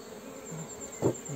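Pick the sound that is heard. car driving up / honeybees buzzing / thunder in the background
honeybees buzzing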